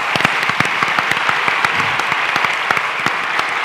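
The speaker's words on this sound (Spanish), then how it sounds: "primero les pedimos un aplauso enorme" An audience gives a big, unanimous round of applause at a project competition event, with dense, steady clapping heard close up for a few seconds.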